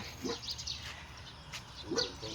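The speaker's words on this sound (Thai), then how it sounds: "มึงได้ยินเสียงหมาเห่าได้เลยเนี่ย" A dog barks twice, a short bark near the start and another about a second and a half later, fairly close over a steady background hum.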